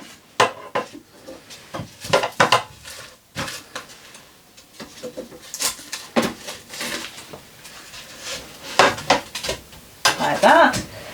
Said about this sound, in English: we're just going to turn the potatoes over